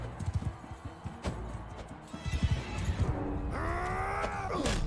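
Horses thunder through a battle in the video game Mount & Blade II: Bannerlord, with rhythmic hoofbeats and sharp impacts, followed by a rising, wavering whinny near the end.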